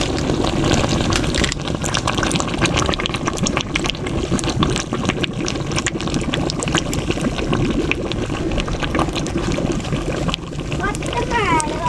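Liquid pours into a tubular inverter battery with a continuous bubbling, gurgling rush under people talking nearby.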